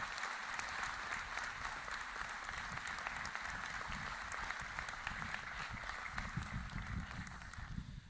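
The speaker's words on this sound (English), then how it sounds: "How about one more round of applause for all of our honorees this morning." Commencement audience at Juniata College's 2025 ceremony giving honorees a sustained round of applause, dense steady clapping from a large crowd throughout, fairly distant and even, with no clear speech over it.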